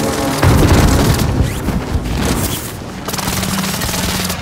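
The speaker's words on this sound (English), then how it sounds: "Enemy precision airstrike. Stay alert." Heavy booming blasts and crackling gunfire from a precision airstrike in Warzone on the Caldera map, loud and dense at the start, then settling into a rumbling, continuous barrage of muffled impacts.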